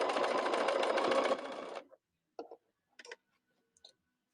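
Sewing machine stitching fabric for scrap pin cushions, a fast close rattling run lasting under two seconds, followed by a few isolated clicks and taps in near silence.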